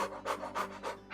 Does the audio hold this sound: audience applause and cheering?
no